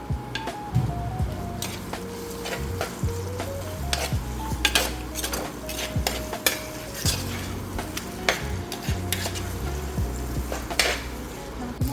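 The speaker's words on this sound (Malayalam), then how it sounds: "സവാള വഴണ്ട് വരുന്നുണ്ട് അപ്പോൾ അതിലേക്ക് നമുക്ക് തക്കാളി ഒന്ന് ഇട്ട് കൊടുക്കാം" Tomatoes tipped into softening onions for a chicken curry and stirred in the pan, giving a constant frying sizzle with frequent close metallic scrapes and clinks of a spoon against the pan, plus a faint tonal hum underneath and no talk.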